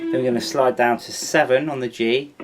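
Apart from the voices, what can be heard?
No everyday noises stand out.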